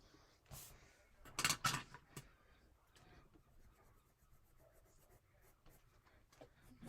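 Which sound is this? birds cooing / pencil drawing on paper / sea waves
pencil drawing on paper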